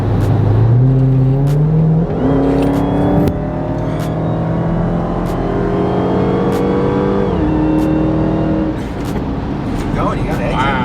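A Dodge Hellcat accelerates hard, its engine pitch climbing through several rising pulls between gear shifts, loud and close from inside the car, with people talking over it.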